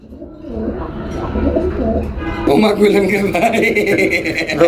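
Pigeons, including local desi pigeons, coo nearby at a pigeon market while people talk over them, and more birds join in louder toward the end.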